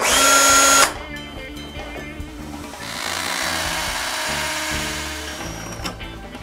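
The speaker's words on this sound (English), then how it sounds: "Now to drill those holes." A power drill bores holes into a wall for mounting a flat-screen TV, opening with a loud high whine that cuts off, then continuing as steady grinding drilling at moderate volume with no talk.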